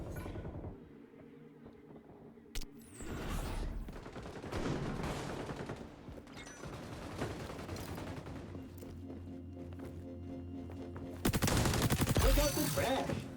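Gunfire in the shooter game XDefiant, rapid automatic bursts and scattered shots close in the mix, growing to a loud dense volley near the end, with a voice speaking at times.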